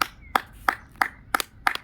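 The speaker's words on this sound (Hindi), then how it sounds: "ताली मारिए" Hand claps in a steady, even rhythm: six sharp, close claps about a third of a second apart over a quiet background, with no talking.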